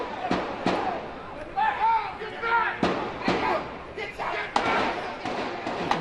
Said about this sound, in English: Hear these shots here,